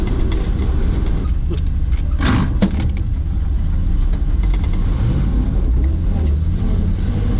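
An old Chevy truck engine runs while the truck drives, a loud continuous low drone with road rumble that stays steady and close, with a few brief clicks and rattles over it.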